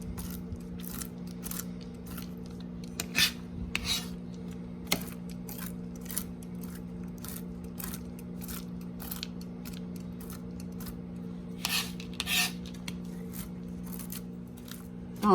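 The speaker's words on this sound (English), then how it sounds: "I'm chopping my almonds right now while the butternut squash is getting cooked in the milk." Almonds are chopped with a knife in soft, irregular taps and clicks over a steady low hum. The sound is quiet and close, with no one talking.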